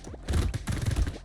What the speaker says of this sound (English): Look how beautiful these explosions are.